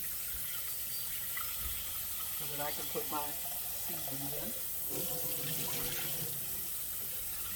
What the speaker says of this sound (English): now what I'm going to do is I'm going to add water to my pot